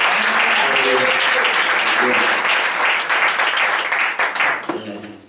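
A congregation claps at length during a Sunday morning church service: a dense, loud, sustained wash of applause with voices mixed in, easing toward the end.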